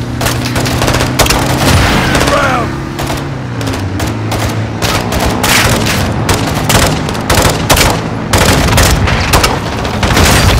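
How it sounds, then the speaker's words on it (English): Loud, dense battle in Call of Duty Modern Warfare 2: rapid crackling gunfire layered with heavy rocket-launcher booms and splintering impacts over a low droning hum, continuous and close throughout. "Gaz, hit with the launcher!"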